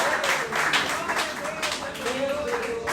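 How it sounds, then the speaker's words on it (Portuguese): A church congregation at an evening service claps in a dense, rhythmic wave, with music and voices mixed in underneath the applause. "Aplauda ao Senhor"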